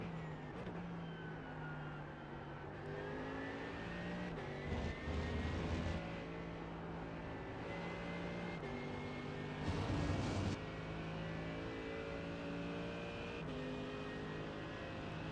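Big V8 race car engine in iRacing at Spa, a steady droning roar with harmonic whine that rises and falls through gear changes, with a couple of louder bursts.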